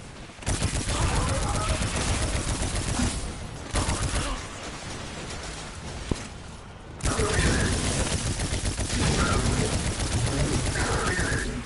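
A gun fires in the video game Destiny 2: Forsaken. Loud, dense bursts of rapid shots run in long stretches, broken by two short pauses.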